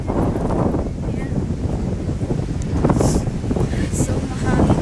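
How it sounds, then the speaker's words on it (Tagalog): Strong wind buffets the microphone on the Jeddah corniche seafront, a loud, steady roar with gusty surges throughout, waves faintly beneath. "so mahangin guys"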